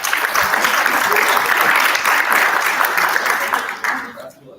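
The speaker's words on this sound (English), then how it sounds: "How many clap for them again?" An audience at a national adolescent health forum claps in a dense, sustained burst of applause that carries steadily for about four seconds and then tapers off, with no talk over it.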